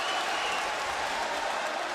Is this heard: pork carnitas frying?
no